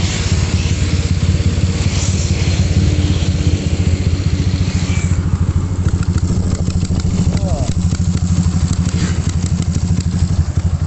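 A CB motorcycle engine fitted with a TM36 carburetor running close by with a throaty, pulsing rumble, briefly rising in revs then settling, loud and steady throughout.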